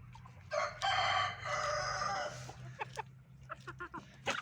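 Chickens cluck and squawk close by, with one longer crowing call early on followed by a run of short clucks over a low hum.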